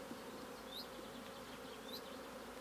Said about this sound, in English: shaking bees in from the colony next door with the shaker box